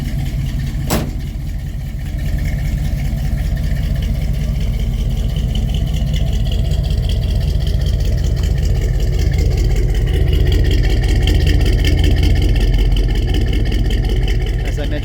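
A 1970 Chevrolet C10 pickup engine idles steadily with a deep, throaty rumble from its true dual exhaust with ceramic coated headers, loud and close, after a brief sharp click at the start.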